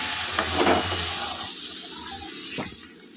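Chana masala is sautéed and stirred in a pan, a close hissing sizzle with scraping stir strokes early on, then a fainter steady hiss and one more scrape near the end.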